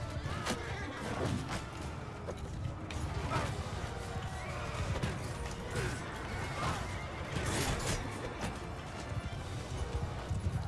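Horse neighing and galloping hooves in Mount & Blade II: Bannerlord, heard amid a dense, continuous battle din with clanks and crashes throughout.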